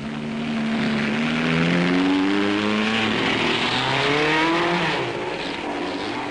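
Lewis Evans's Vanwall Grand Prix racing car at a 1958 European race, push-started as its engine catches and revs up, a rising and falling roar with shifting pitch, close and loud, with other engine noise around it.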